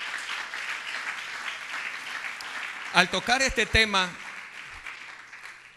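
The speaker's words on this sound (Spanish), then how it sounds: "Dele ese aplauso al que se lo merece." A church congregation applauds in a dense, steady wash for about three seconds. Then someone speaks briefly while the clapping fades into the background.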